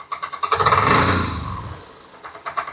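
A 1983 Yamaha Riva 180 scooter engine with a hard-start problem cranks in quick pulses, then catches briefly as the throttle is twisted, rising to a rough rev and fading back to sputtering cranks.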